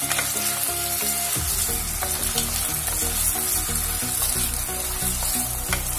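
Vegetables for a vegetable pulao fry in a pan until golden, a steady crackling sizzle running the whole time. Several spoon scrapes and knocks ring out over it, with music-like tonal lines in the background and no one talking.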